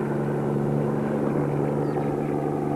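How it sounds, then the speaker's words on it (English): A small propeller airplane in flight, heard from the cabin as a steady, loud droning engine hum with strong tonal harmonics that continue without a break. "All right, now, David, give me full flaps"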